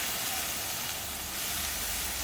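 Steady broadband hiss of steam rising from wet cedar planks on a grill cooking salmon, continuous and fairly loud throughout with no talking.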